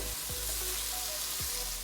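Bay leaves, cardamom and cloves fry in hot oil for chicken korma, a soft continuous sizzle with a couple of low thuds from the pan.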